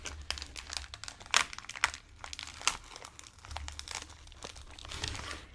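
Beyblade X Leon Claw and Viper Tail packaging is opened up close, with soft crinkling and tearing of plastic and card, broken by a few sharper crackles, quiet and intimate with no talk.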